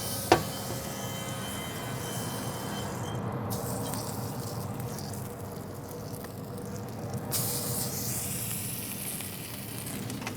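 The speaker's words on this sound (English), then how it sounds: "Now, a little bit of butter for the griddle as well" Butter sizzles steadily on a hot griddle while a Cuban sandwich of mojo pork is being made, a close, even hiss that carries on throughout with a small click near the start and no talking.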